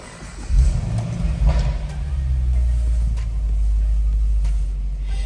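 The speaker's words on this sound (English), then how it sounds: "I'll now just get in this vehicle and turn it on for you." A 2015 Chevrolet Camaro SS with manual transmission and keyed ignition starts up nearby, a low rumbling catch rising into a deep, steady idle that holds loud and throaty.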